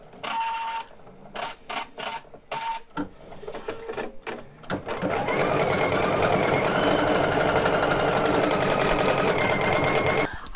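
An embroidery machine stitches border leaves in off-white thread on a crazy quilt block. It starts with short stop-start bursts of stitching, then settles into a loud, steady, fast mechanical chatter that carries on to the end.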